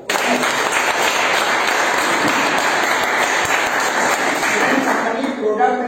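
Dense, sustained applause from a large audience at a seminar on shopping income, loud and steady throughout, tapering slightly at the very end.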